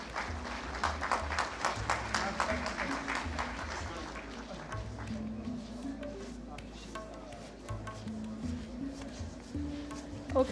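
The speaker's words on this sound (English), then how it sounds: "Please give them a huge round of applause." An audience at an AI research symposium gives steady applause for keynote speakers, moderately loud and sustained throughout with low voices murmuring underneath.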